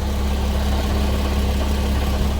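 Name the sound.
Nissan Z idling, HKS exhaust, clacking from blown catalytic converters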